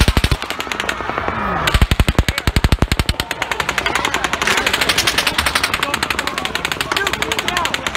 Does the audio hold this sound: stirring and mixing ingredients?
no